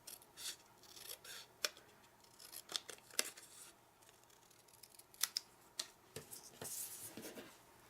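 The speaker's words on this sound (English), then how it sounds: "I'll just snip that off by eye" Scissors snip a piece of stamped card by hand, giving a scattering of short, close, quiet cuts and crisp paper rustles in an otherwise still room.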